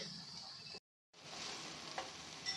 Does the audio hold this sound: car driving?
no